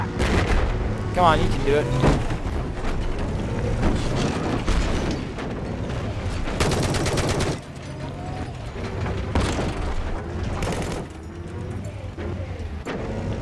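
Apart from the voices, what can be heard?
tank turret firing in Battlefield 4 video game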